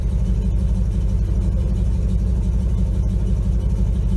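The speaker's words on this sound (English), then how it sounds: "so she's running on her own now" Engine of a 1957 GMC 370 fire truck idling on its own, a steady low rumble with an even loping pulse, loud and close throughout with no talking.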